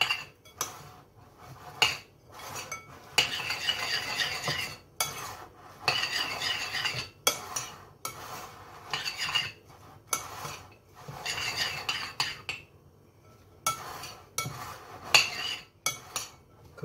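Caesar salad tossed with croutons, parmesan and dressing in a bowl, giving repeated close scraping and clinking of utensils against the dish in uneven bursts with short pauses, no voices.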